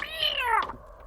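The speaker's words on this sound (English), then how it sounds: "Have you fed that cat?" A single cat meows once, a drawn-out rising and falling call lasting under a second, fairly close and clear with a quiet background.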